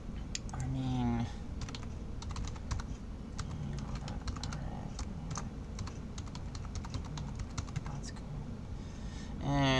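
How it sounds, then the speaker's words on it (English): Keys clatter on a computer keyboard in a steady run of close, quick taps as someone types a password to sign in, with brief voiced sounds at the start and end. "and I put my password, and here I go and sign in"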